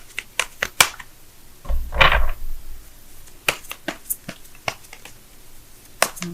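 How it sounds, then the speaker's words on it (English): Tarot cards are shuffled quickly by hand, heard as close, crisp clicks and taps in an uneven rhythm with one brief riffling burst partway through, with no talking. "let me go ahead and shuffle right fast"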